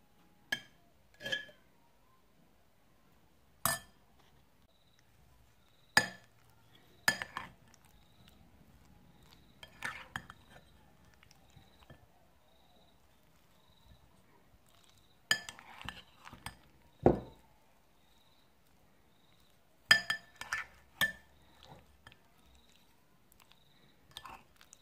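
Mayonnaise being stirred into an egg and potato salad, heard as sparse, sharp clinks and scrapes of a utensil against the bowl with long quiet gaps between, close by and with no talking.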